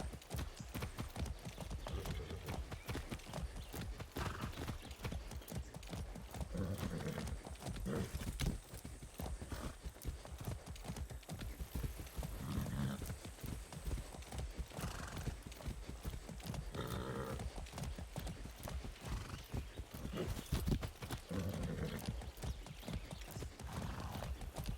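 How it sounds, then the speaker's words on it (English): Steady clip-clop of horse hooves from a ridden horse in the Far Cry 6 video game, rhythmic and close, running the whole time with occasional brief louder moments and no speech. "That's a good horse."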